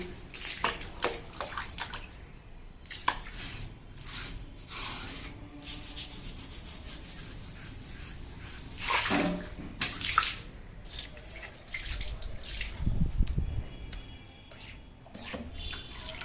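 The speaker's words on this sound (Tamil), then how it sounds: "அம்மியை ஒரு கழுவு கழுவிடலாம்" Scrubbing and washing a Cuddapah stone grinding stone with water, with repeated rubbing strokes, splashing and running water heard close up, and no talk.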